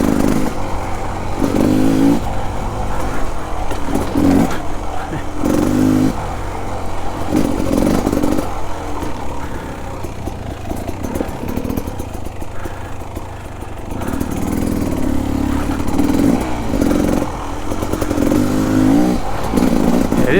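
Beta Xtrainer 300 two-stroke dirt bike ridden through a flowing trail section in third gear, its engine droning loud and close with repeated surges of throttle.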